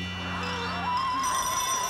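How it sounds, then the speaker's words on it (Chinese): A telephone rings indoors, a short electronic ringing tone sounding clearly at moderate volume with no voices. "小云你电话"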